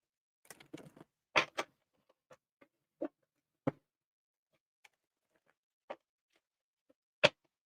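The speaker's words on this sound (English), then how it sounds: "Two more shuffles." A deck of tarot cards is shuffled in a series of sharp, sparse riffles and snaps, several quick flicks at first and then isolated taps spaced out in otherwise quiet surroundings.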